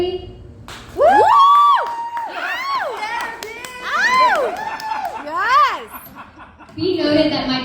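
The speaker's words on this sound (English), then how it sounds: "that might be the best applause I get all night for therapy" A live stand-up comedy audience breaks into loud cheering and whooping in several bursts, mixed with laughter and a comedian talking between the swells.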